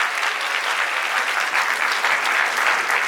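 Sustained audience applause at a school literary conclave, a dense steady wash of clapping hands filling the room at even loudness throughout, with no voices rising above it.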